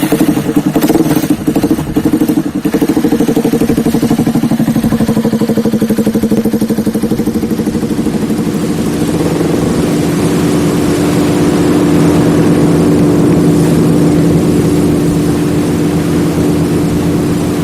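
Boat motor running on a lake, a loud continuous droning engine close by, rough and sputtering at first, then settling into a steady hum.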